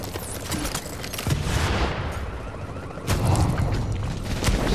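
Loud, dense gunfire from a team firefight in The Division's Dark Zone, with sharp shots and bursts packed together over a continuous roar and a heavier surge of fire toward the end.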